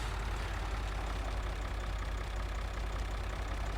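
A red tractor's engine idles in Farming Simulator 2013, a steady low rumble holding even and unbroken throughout with no other sounds over it.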